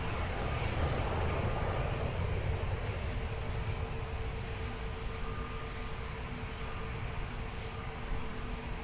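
A passenger airplane taking off at Lisbon Airport, a loud, steady roar of jet engines holding at a broad, even level throughout, with no voices over it.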